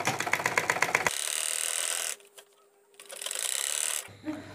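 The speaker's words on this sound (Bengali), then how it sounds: "দেখুন এই যে 1/2 ফিট বাদ দিয়ে আমি কিন্তু সেলাই দিচ্ছি" A sewing machine stitches fabric in rapid rhythmic pulses that settle into a steady mechanical whir, stops briefly, then runs again, close and fairly loud.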